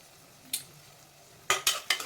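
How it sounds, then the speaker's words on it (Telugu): Onions and green chillies frying in a pan, heard as a quiet sizzle broken by one spoon scrape and then three quick stirring scrapes close by. "ఉల్లిపాయలు పచ్చిమిర్చి బాగా వేగాలండి"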